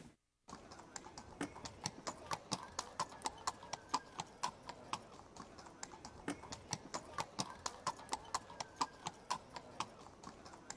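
Gypsy Vanner horse, a chunky unshod breed, clip-clopping on a ranch with a steady, close rhythm of sharp hoof strikes repeating throughout, with no talk over it.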